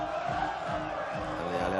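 A large crowd at a BMX freestyle spine ramp final in Montpellier cheers loudly for a French rider, a dense sustained roar of voices and whoops with a commentator talking over it.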